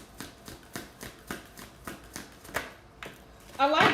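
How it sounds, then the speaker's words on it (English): A deck of tarot cards is shuffled by hand in a steady run of about eight soft riffling bursts, close up, ending with a louder flurry of card noise. "because I'm not the best shuffler"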